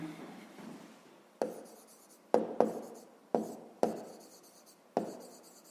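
A pen writes on paper during a math lesson. Six or so crisp strokes and taps stand out clearly, each followed by a softer scratching trail, close up with no talking.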